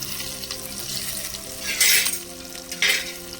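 Coriander seeds fry in oil in a pan with a steady sizzle, and two louder bursts of hissing come as the seeds are stirred or more is added.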